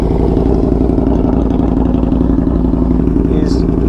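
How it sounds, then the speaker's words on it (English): A Yamaha V-Max motorcycle with a 4-cylinder engine and a 4-into-1 exhaust idles close by, giving a loud, steady, throbbing rumble with no break. "Listen to that exhaust, man. This is a 4-cylinder, so 4-into-1."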